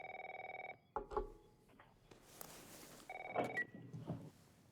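Telephone ringing in the game The Last of Us Part I, a quiet buzzing electronic ring pulsing in a rapid train, followed by soft handling clatter and a second brief ring burst.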